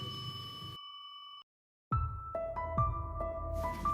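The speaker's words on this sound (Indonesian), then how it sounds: "nyalakan lonceng notifikasinya" A notification bell sound effect chimes with bright ringing tones, a short ding that cuts to silence, then several quick layered bell strikes that ring out over a low musical bed.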